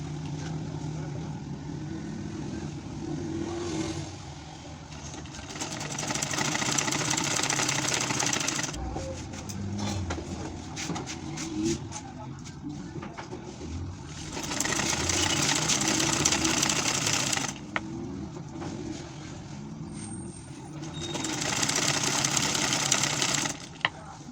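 A sewing machine stitching a fabric strip around a baby nest, running in long steady whirring bursts of several seconds separated by short pauses, fairly close and alone.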